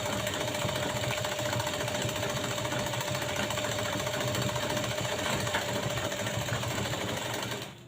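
A sewing machine runs continuously at a fast, even rhythm while topstitching a strip onto a puff sleeve, its close, steady mechanical chatter filling the whole stretch before slowing to a stop at the very end.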